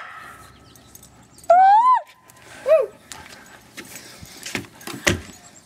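A dog gives a drawn-out whine or yelp, then a shorter rising whimper a moment later. Clattering and jangling sounds follow close by.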